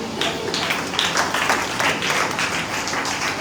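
An audience at an Urdu sermon breaks into applause, a full, continuous crackle of many hands clapping nearby, steady in level with small swells throughout.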